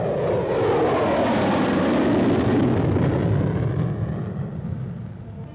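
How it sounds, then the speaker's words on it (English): A Lockheed SR-71 Blackbird jet roars through its takeoff roll, a loud, dense engine blast that swells and holds, then slowly fades as the aircraft pulls away. "Takeoff roll is about the same as for current Century Series fighters."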